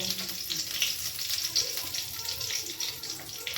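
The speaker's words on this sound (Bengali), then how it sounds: "এবার আস্তে আস্তে গরম মশলা দিয়ে দেবো, এলাচ, দারচিনি, 2টো লবঙ্গ।" Whole spices, cardamom, cinnamon, cloves and dried chilli, frying in hot oil in a pan, giving a soft, continuous sizzle with light crackles, fairly faint and close.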